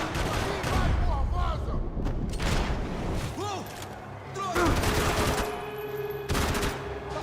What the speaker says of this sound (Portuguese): Atirando! Atirando com ele!